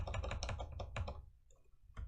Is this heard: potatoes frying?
no